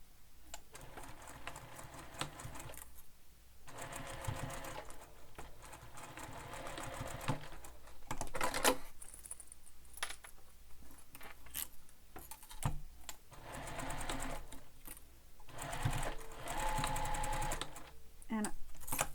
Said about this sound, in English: we're going to sew this using the seam allowance given in the pattern. And you're sewing through all those layers.